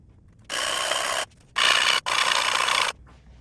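Sandpaper rasps over the wooden braces of a grand auditorium guitar, three loud close strokes of dry scraping with brief pauses between them.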